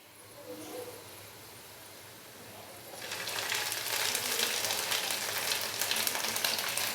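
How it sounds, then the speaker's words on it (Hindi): Ginger, garlic and green chili paste hits hot oil with onions, starting as a quiet low rumble before a loud, dense sizzle erupts about halfway and keeps crackling steadily to the end. "अच्छे से हम इसको मिक्स करेंगे और हल्का सा फ्राई कर लेंगे।"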